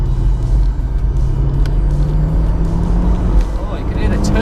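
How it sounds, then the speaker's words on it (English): An Audi TT with its roof down driving along, a steady loud engine and road rumble with a faint rising turbo whine, close and continuous throughout. "Oh, you can hear the turbo now with the roof down though."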